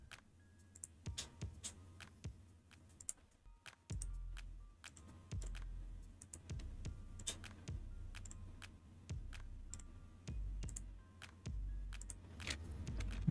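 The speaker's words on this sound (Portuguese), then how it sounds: "Aperto Enter, Enter, Enter" Computer keyboard keys clicked repeatedly on an embroidery-digitizing workstation, a steady run of sharp close taps including Enter presses, with no talking.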